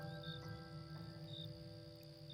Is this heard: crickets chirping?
yes